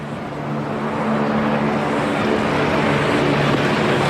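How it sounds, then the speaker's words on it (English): A helicopter flies unseen over a cricket ground during a New Zealand versus Australia Test match, giving a steady low rotor drone that swells slightly louder over a few seconds, with no talk over it. "Can't see that chopper. Can hear it."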